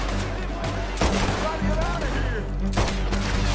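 Gunfire in Red Dead Redemption 2 crackles close and loud as a rapid volley of shots and bangs over the game's noise, with someone talking briefly alongside.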